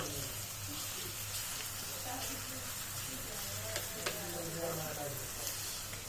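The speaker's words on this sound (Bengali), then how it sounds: "এখন আমরা আরও একবার পেঁয়াজ ভাজছি।" Onions fry for a biryani, a steady dense sizzle of hot oil filling the whole stretch, with occasional scraping and clicking as the pan is stirred, close and continuous.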